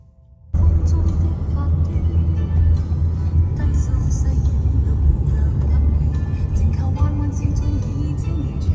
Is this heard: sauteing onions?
no